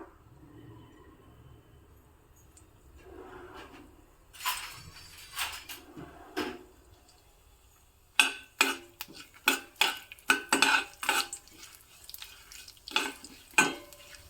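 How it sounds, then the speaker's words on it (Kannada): Mustard seeds, a dry chili, curry leaves and urad dal crackle in hot oil for a tempering, starting quietly and then giving way to repeated sharp scraping and clattering bursts of stirring in the pan. "ಒಗ್ಗರಣೆ ಚೆನ್ನಾಗಿ ಬೇಯ್ತಿರೋ ಹಾಗೇ ನೋಡಿ ಉದ್ದಿನ ಬೇಳೆ ಬಣ್ಣ ಎಲ್ಲ ಚೇಂಜ್ ಆಗಿದೆ"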